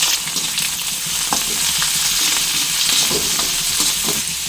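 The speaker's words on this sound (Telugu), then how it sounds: "ఇప్పుడు ఇందులో సన్నగా కట్ చేసుకున్న ఉల్లిపాయలు మీడియం సైజు రెండు ఉల్లిపాయలు ఒక టమోటా వేసుకుని వేయించుకోండి" Finely chopped onions and tomato hiss and crackle in hot oil in a pan, a loud, close, continuous sizzle with small clicks of stirring, no talking.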